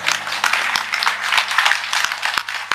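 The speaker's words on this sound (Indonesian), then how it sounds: "Tepuk tangan buat kita semua" Steady applause from an indoor audience at a talk on wayang and dalang, a dense patter of many hands clapping continuously throughout, with a few sharper individual claps standing out and a low hum underneath.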